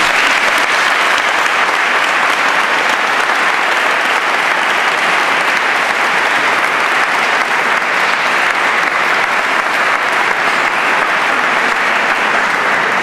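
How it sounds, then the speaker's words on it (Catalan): Sustained, dense applause from an audience at a sardana association event in Catalonia, loud and steady for the whole stretch with no pauses and no talking over it. "voldríem un aplaudiment per ell"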